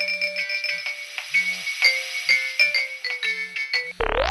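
A mobile phone ringtone plays a repeating bright electronic melody that rings unanswered, loud and close with no voices, then cuts off abruptly at the end.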